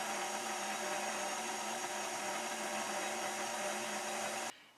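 Stand mixer kneading bread dough, a steady loud motor whine and whir that runs evenly for several seconds and then stops abruptly near the end.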